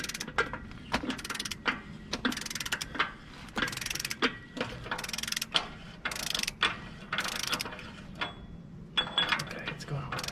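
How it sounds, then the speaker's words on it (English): Torque wrench set to 100 foot-pounds ratcheting in repeated bursts while tightening the hub on a Dexter 12k trailer axle, loud and close with brief pauses between strokes. "we're going to use our trusty torque wrench here"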